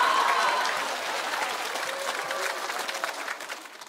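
A studio crowd at a comedy roast show applauds in a dense, even wash of clapping that starts loud and slowly tapers off toward the end.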